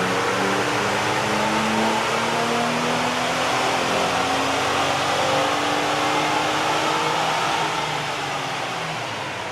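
A third-generation Toyota Tacoma engine runs hard in third gear on a dyno, a loud sustained drone whose pitch climbs steadily as the revs build, close and continuous without talk.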